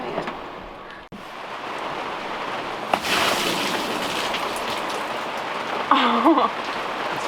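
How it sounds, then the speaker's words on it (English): Heavy rain pours down on a sailboat, a steady dense hiss of drops drumming on deck and water, loud and continuous, with a brief thump and a short higher sound near the end. "it's pouring."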